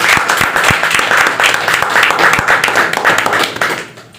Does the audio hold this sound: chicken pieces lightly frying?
no